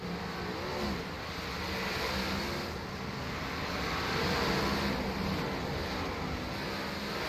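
Race cars roar around a dirt speedway in an IROC dirt series event, a steady, dense engine drone with slight swells as cars pass, heard from a distance without talk.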